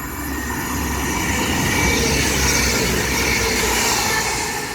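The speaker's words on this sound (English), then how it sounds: "Passing through now is a Northern service, and it is off to Chester from Leeds." Northern class 195 passenger unit running through Patricroft on a Leeds to Chester service, a loud close steady rumble and rail roar with no break across the whole stretch.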